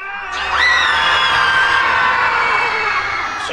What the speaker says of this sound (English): Everybody screaming out.